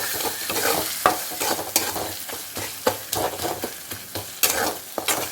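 Ginger garlic paste fries with onions in a pan for prawn egg gravy, with a steady sizzle and repeated sharp scrapes as a utensil stirs. The scrapes come in an uneven rhythm, close and clear, with no voices.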